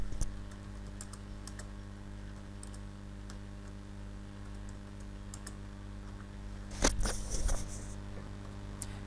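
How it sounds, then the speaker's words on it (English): Quiet keystrokes on a computer keyboard while entering a short question in Scratch programming, sparse clicks and a brief quicker burst near the end, heard close over a steady electrical hum. "Click and delete or backspace and type what is 4 plus 3"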